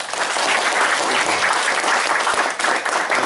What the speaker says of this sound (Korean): 또 박수 한번 쳐드립니다.